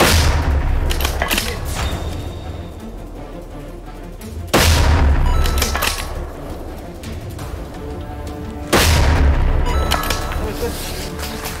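Sniper rifle shots fired during shooting training outdoors: three loud, sharp cracks about four seconds apart, each followed by a long rumbling echo.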